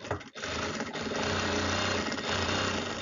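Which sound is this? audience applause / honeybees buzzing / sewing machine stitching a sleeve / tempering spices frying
sewing machine stitching a sleeve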